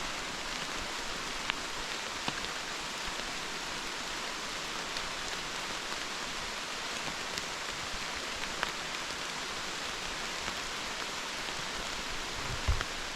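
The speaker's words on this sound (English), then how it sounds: "so now it is officially raining" Steady rain falls throughout on a hiking trail in the Laurel Highlands, a continuous broadband hiss of drops with a few sharper taps on nearby surfaces, with no talking.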